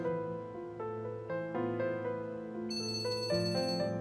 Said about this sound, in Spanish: ¿De quién es ese teléfono?